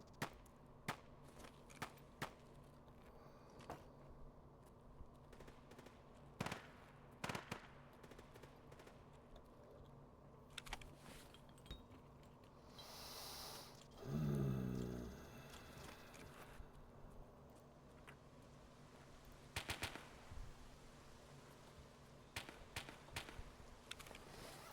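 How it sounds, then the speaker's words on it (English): Faint, scattered gunshots in the video game Escape From Tarkov crack sporadically in the distance, with a brief louder burst of noise partway through. "Sounds like that gunfire's out on the main drag."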